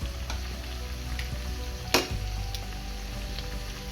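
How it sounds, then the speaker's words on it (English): Oil sizzles and crackles steadily in a pan while frying for salted fish sauce, with a brief louder spatter midway, no voices. "after about frying for 3 minutes, we're going to add a fermented fish"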